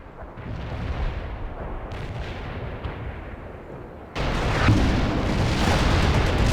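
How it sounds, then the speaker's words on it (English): Artillery fire support in the World in Conflict strategy game, a Soviet assault mission, with rumbling booms and gunfire that grow louder and denser partway through, no voices. "I need fire support, Romanov."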